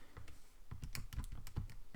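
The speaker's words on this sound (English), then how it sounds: "if you hear me click here, I'm clicking on a calculator" Quick, faint plastic clicks of buttons being pressed on a calculator during a geometry lesson, about a dozen taps in an uneven rhythm, close and quiet with no talk.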